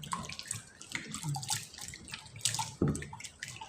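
Water pours and splashes into a container to soak cut pumpkin in limewater, a close, uneven gurgle with a brief louder splash near the end.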